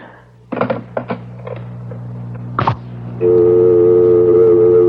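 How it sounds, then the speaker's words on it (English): A few handling clicks and knocks, then a loud, steady telephone dial tone hums continuously until the end. "There's no one on the line. It's just a dial tone."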